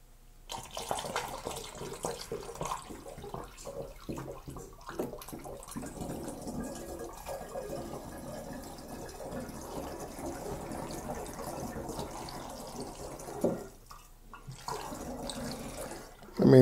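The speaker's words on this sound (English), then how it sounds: "the next thing we're going to do is add in about 1/2 of our water" Water is poured into a traditional mead mixture of honey, a steady running pour that fills most of the clip at moderate level, with a person speaking over it.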